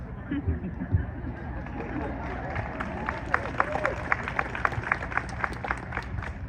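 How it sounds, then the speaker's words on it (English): Audience applause breaks out at a book reading at the LA Times Festival of Books, building from scattered claps into a run of sharp, fairly close clapping over crowd murmur and voices. "Hold for applause."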